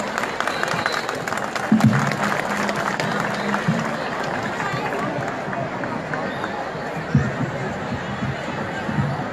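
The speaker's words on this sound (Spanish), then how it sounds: "Ese aplauso que se sienta más fuerte" Audience applause at an outdoor Independence Day ceremony in a town park in La Romana, Dominican Republic, a broad crowd clapping steadily with a few louder thumps and a voice over a speaker system.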